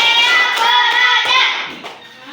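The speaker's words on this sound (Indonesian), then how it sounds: "Tepuk tangan semuanya." A class of children clapping their hands together, a dense, loud, close burst of rapid claps that thins out and fades toward the end, with children's voices mixed in.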